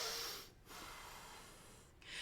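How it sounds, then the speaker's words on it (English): A loud nasal sniff is drawn in by a person during a piano lesson, a broad breathy rush lasting most of a second or two, close and fairly strong, with brief pauses and no speech. "Can you sniff really loud?"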